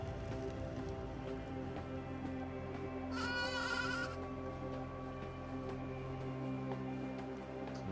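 A sheep in the video game AER: Memories of Old lets out a single wavering bleat over a steady ambient game soundscape with soft rain-like texture.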